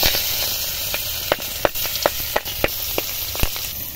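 Magur catfish coated in salt and turmeric fry in hot oil, giving a loud steady hiss punctuated by sharp spattering pops at irregular intervals.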